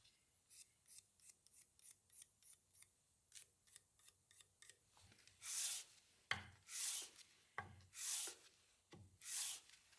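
A Korean hand plane's sole being flattened by pushing in one direction only, its blade and chipbreaker set in place: a quick run of short scraping rubs, then several longer, louder, hissing strokes with brief pauses between them.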